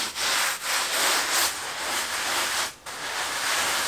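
Tanning solution is worked by hand into a sewn-up beaver hide, giving a steady, close, loud rubbing and scrubbing that continues with brief dips, with no talk.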